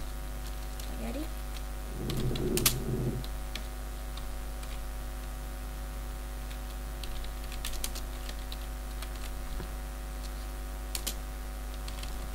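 Keys clatter on a computer keyboard in a steady run of soft, quick taps over a constant low electrical hum. A short voice cuts in once near the start.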